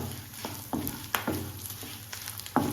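Something roasting in a pan over low heat while being stirred continuously, a quiet crackling hiss punctuated by a handful of sharp spatula scrapes against the pan, close by, no speech.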